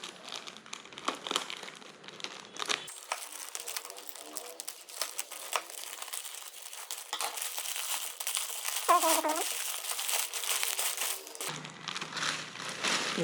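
Plastic accessory packaging for an action camera is cut open, giving crinkling and crackling plastic rustles throughout, close and fairly loud, with a brief scissor-like snip in the middle.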